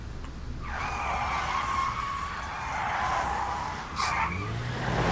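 A car in the video game AI: The Somnium Files - nirvanA Initiative skids to a stop with a loud, sustained tire screech lasting several seconds, fading briefly before a final squeal, with no talk.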